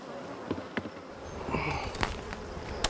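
Honey bees buzz around hives at a lavender farm apiary, their hum rising and falling softly as individual insects pass close by, with light ticks and rustles outdoors.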